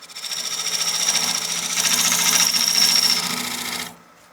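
Wood lathe turning a bowl blank while a bowl gouge cuts a tenon for the chuck: a steady, close scraping and rasping hiss that swells and holds, then cuts off abruptly near the end, leaving the quiet hum of the spinning lathe.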